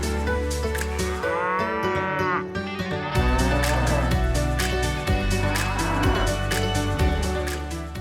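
Cattle on a Taiwanese farm with large grazing fields moo repeatedly in long, low, overlapping calls, with several animals lowing close by in a steady chorus across the whole stretch.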